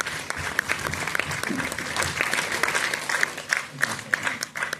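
An indoor audience at an RCM business motivational event gives loud applause as the mic is handed over, sustained clapping with sharp individual claps over a crowd murmur.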